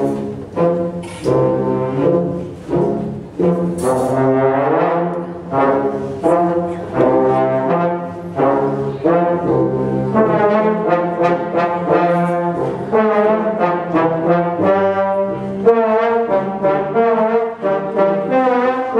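At a children's concert, a band group with trombones added plays a sustained, brassy passage of held chords and moving lines, full and fairly loud throughout, with no talking.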